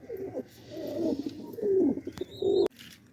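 Pigeons cooing inside a cage, repeated low rolling coos close by, followed by a brief sharp clack near the end.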